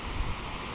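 Steady wind rushing across a microphone, a broad low roar with a brief gust buffeting near the start.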